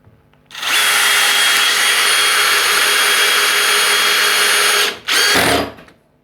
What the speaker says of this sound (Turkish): ahşap vidasıyla bu yaklaşık 10 santimlik bir ahşap vidası 16 santimlik çam takozlara vidalıyorum